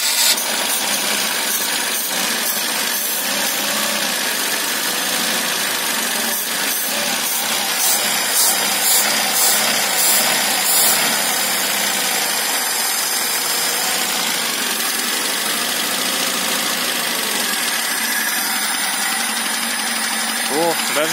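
A VAZ 2105 engine with an Ozon carburetor, cold on its first trial start, runs in a steady rough idle throughout, loud and close, with voices talking over it.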